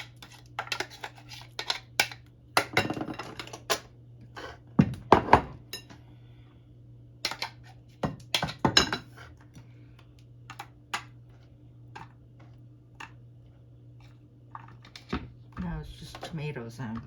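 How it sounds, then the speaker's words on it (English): Knife chopping tomatoes on a cutting board for homemade salsa, irregular clusters of sharp taps and clinks with some pauses, close and fairly clear over a low steady hum, speech occasionally mixed in. "It's just tomatoes I'll be chopping up here"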